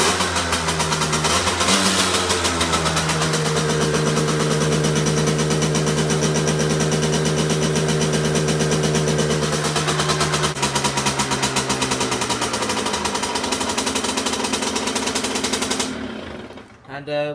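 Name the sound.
Derbi Senda 50cc motorcycle engine kick-started and idling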